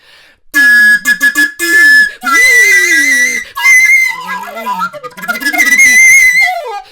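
A recorder plays a loud, shrill melody in bursts, with piercing high notes and brief pauses between phrases.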